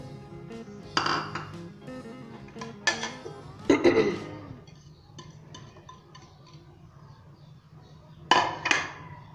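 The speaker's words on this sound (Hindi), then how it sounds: "शिमला मिर्च शामिल कर देंगे हम, जो हमने छोटे छोटे काट कर रखे हुए हैं।" A utensil clatters against a pan as small chopped capsicum pieces are added and stirred, scattered metallic knocks and scrapes separated by quiet stretches over a low hum.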